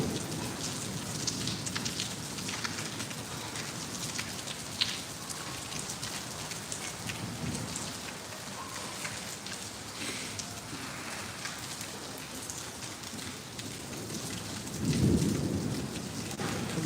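Steady heavy rain pours down in Bathinda, drumming on surfaces without a break, while thunder rumbles low and far off and one deeper roll swells near the end.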